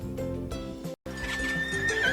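A horse neighs loudly twice, a shrill quavering whinny cut by a short silence, with rhythmic snorting and movement underneath.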